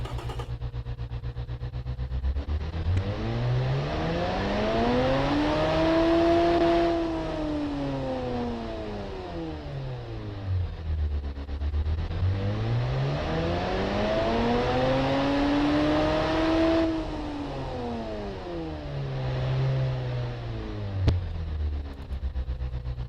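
A 90-degree pushrod V8 car engine in a video game revs up and down in two long sweeping cycles, its pitch rising and falling smoothly, loud and close.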